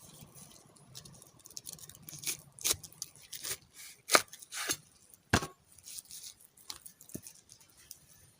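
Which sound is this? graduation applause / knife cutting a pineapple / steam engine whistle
knife cutting a pineapple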